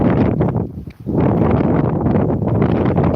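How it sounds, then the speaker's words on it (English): Strong, blustery wind on a cold night in Withernsea buffets the microphone with a steady roar, dipping briefly before surging back loud and continuous. "It's still very windy"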